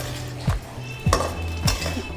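Okra is stirred in a metal pan for bhindi masala, three clear scraping clinks of a spoon against the pan at an even pace over a low background hum, no voices.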